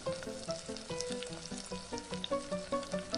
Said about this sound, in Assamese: আদা আৰু নহৰুখিনি অকণমান সময়লৈ ভাজি লৈছোঁ